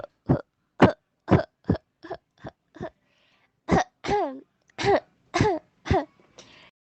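In a school theatre play, a performer coughs and clears their throat repeatedly, a rapid series of harsh, close bursts followed by several strained, raspier coughs, heard alone.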